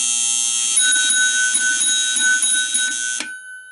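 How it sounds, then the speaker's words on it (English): A real elevator alarm bell rings loudly and continuously for about three seconds, a harsh steady electric clang with slight pulsing, then cuts off abruptly. "we have a real elevator alarm"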